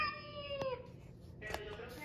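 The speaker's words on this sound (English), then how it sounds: "This is a cat. The cats like to purr." A cat meows twice, short and fairly close but quiet, with the calls about a second apart over a low background hum.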